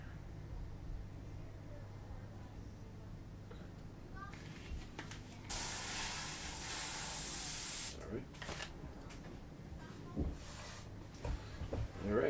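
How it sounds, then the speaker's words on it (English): An airbrush sprays paint for a virtual graphics job in a steady hiss lasting about two and a half seconds, with brief shorter bursts before and after and faint background noise around them. "So now we're back to our airbrush."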